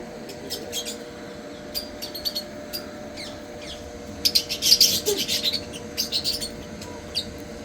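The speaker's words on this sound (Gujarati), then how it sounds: "આ છે લવ બર્ડ." Black-cheeked lovebirds at a zoo chirp in quick, high-pitched bursts that thicken into a busy flurry midway, then thin out over a low, steady background hum.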